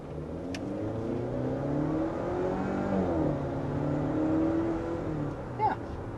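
A 2023 Volvo XC60 mild hybrid with a 2-liter engine drives along, its steady, smooth engine hum and road noise rising and falling slightly under continuous cabin sound, with a faint click near the end.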